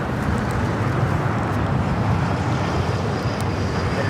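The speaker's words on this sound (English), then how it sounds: "Delta Airlines 972 taking off to JFK on a 767-300 ER" A Delta Boeing 767-300ER jet taking off at LAX gives a steady, loud, broadband engine roar with a strong low rumble, holding an even level throughout with no talking.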